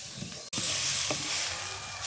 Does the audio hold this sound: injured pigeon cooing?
no